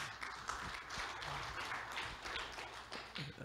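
Audience clapping at a church service, a steady broadband patter of many hands spread evenly across the whole stretch, moderately quiet and with no talk over it.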